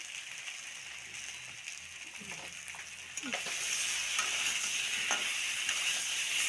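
Tomatoes and potatoes fry in oil with turmeric for a prawn curry while being stirred, producing a close hiss that grows louder and steadier partway through, with occasional scraping and clinks of the spoon against the pan.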